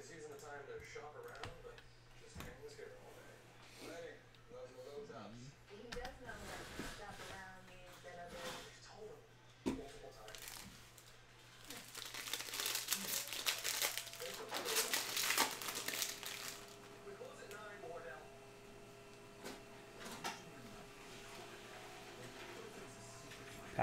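A Panini Mosaic basketball hobby card pack is torn open, giving a burst of loud crinkling and ripping foil wrapper close by, following faint background voices and a constant low hum.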